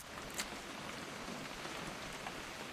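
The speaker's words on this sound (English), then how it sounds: "It's gonna rain the whole weekend, isn't it?" Rain in the video game What Remains of Edith Finch: a soft, steady hiss of falling drops, faint and even, with no voices.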